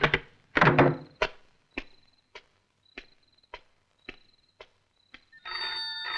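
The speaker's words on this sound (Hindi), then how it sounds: "टेलीफोन?" In an Indian action film, a telephone bell starts ringing loudly near the end, after a series of sharp thuds and steady footsteps in an otherwise quiet room.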